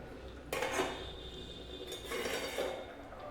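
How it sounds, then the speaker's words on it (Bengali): A metal lid is lifted off a cooking pot of fish curry with vegetables, two clanking metallic contacts with a brief rattle between them, close and clear over quiet room noise. "এবারে ঢাকাটা খুলে দেখব"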